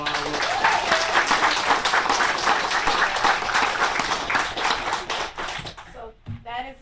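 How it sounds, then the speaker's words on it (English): An audience at an April 2014 city council meeting claps in a loud, dense burst of applause that lasts several seconds, then thins out and fades while a voice starts talking. "I want to give her a round of applause as well"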